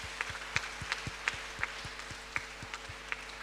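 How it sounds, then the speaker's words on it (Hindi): A congregation at a Hindi-language healing and anointing retreat in Goa claps in thanks to the Lord, a faint, steady rhythm of roughly ten evenly spaced claps heard at a distance. "तो प्रभु को ताली बजा के धन्यवाद देंगे।"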